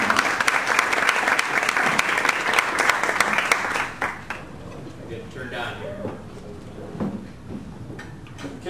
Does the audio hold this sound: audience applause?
yes